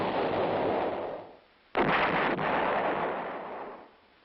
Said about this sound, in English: The self-propelled 8-inch howitzer M110 employs the same tube as the towed weapon.